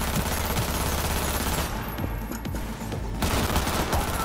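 Dense gunfire in Cyberpunk 2077, loud sustained bursts of rapid automatic shots with booming impacts, briefly thinning in the middle before resuming at full intensity.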